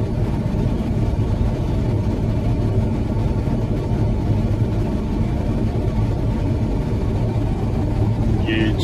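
The engine of a 2017 John Deere S670 combine harvester runs at a steady, loud, low rumble with a constant drone throughout, close by, with no other sound breaking through.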